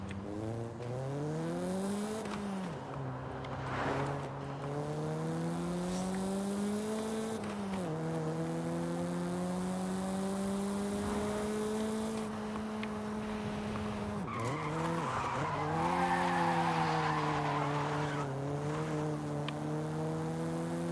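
A stock Nissan Silvia Spec R in Forza Horizon 5 revving hard through rising and falling gears, with tires squealing and skidding in bursts over the steady engine drone.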